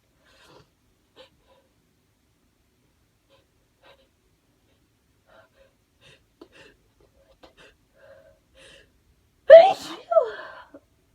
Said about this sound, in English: I promise I'm trying not to sneeze, but it's not going well for me at the minute.